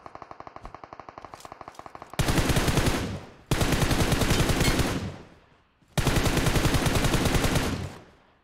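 Automatic gunfire in PUBG Mobile, with a quick run of rapid shots followed by three long, loud sustained bursts separated by short pauses, no talking.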